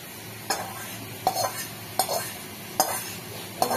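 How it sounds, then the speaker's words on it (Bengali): Food cooks in sizzling hot oil in a pan, with a low constant crackle under five evenly spaced clicks and scrapes of a spatula stirring at close range, no voices. "গরম তেল"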